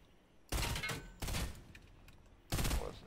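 Three loud bursts of purple pistol gunfire in a video game, each a sharp cluster of shots that rings out for a moment. They come at about half-second, one-second and two-and-a-half-second marks, close and punchy, with no talk over them.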